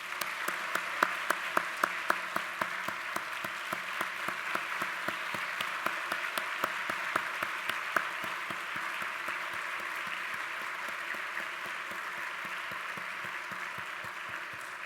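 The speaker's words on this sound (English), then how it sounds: "Please join me now in giving the faculty and staff a big round of applause." Applause from a commencement crowd honoring faculty and staff at a medical school graduation, a broad even roar of clapping with a few sharp individual claps standing out near the front, sustained for about fifteen seconds.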